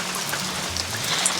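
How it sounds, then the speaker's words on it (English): Monsoon rain falls outdoors over a freshly dug swale and berm on desert land, a steady close patter of drops with water running, no voices. "go out while it's raining"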